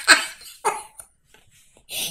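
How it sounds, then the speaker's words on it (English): A dog whines and cries in a few short, high, nasal bursts with gaps between them, close and fairly clear, with no talk over it. "Dog's crying now."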